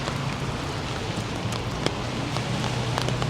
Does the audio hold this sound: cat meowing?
no